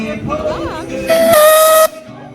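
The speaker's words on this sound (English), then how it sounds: "It's got a steam whistle." Steam whistle on a steamboat at a canal festival gives a loud, shrill sustained blast of about a second with hissing steam, following brief background voices and sounds.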